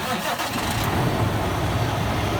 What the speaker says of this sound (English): When I start the truck